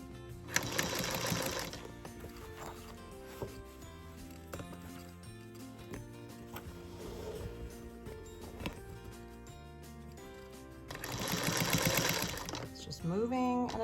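A sewing machine stitches scalloped edge binding onto a quilt, a short loud run near the start and another near the end, with quieter handling and shifting between and some talking.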